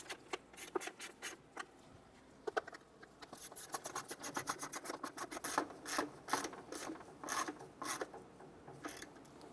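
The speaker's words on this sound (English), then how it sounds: "I'll go ahead and snug down all of our bolts on our intake." Ratchet wrench snugging down intake manifold bolts on a 2008-2012 Honda Accord, rapid clicking bursts in repeated strokes with short pauses, close and fairly quiet.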